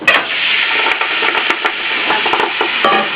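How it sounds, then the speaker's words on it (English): Steady, loud crackling sizzle of wet collard greens in hot oil, with sharp pops and splatters scattered throughout. "You're going to sizzle, so maybe splatter."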